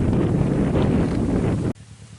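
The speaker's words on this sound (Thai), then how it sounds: "ลมพัดเย็นเย็น" Cool wind blowing at a reservoir, heard as loud, rough microphone buffeting that cuts off abruptly near the end, leaving a faint, quieter outdoor ambience.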